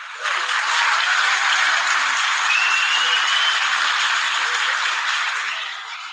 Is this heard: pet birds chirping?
no